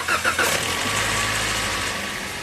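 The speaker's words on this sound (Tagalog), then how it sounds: "Pa-start ko na nga lang itong makina mga boss." A Toyota Rush engine cranks with a few quick starter bursts, catches, and settles into a steady, close idle that holds to the end.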